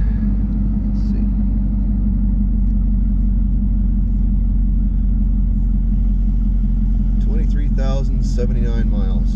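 A 2017 Camaro ZL1 engine idles with a loud, deep, steady rumble throughout, and a voice comes in over it near the end.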